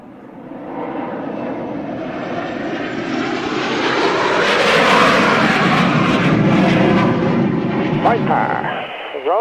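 A Viper jet aircraft performs a roll to the left during an airshow. The engine roar swells from a distance to a loud peak and then fades, and a commentator talks over it.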